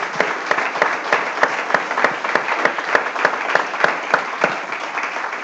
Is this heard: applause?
yes